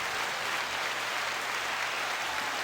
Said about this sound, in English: let me get the applause going